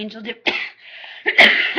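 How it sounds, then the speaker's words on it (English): A close, throaty cough bursts out twice between bits of a voice, the second cough harsher and louder. "I'm sure you always know it's me by now by that lovely cough that I get"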